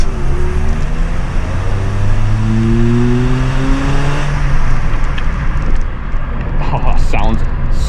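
A car engine pulls hard on a country road, its revving tone climbing steadily in pitch through the gears, loud and close over wind and road roar, with a few brief noises near the end.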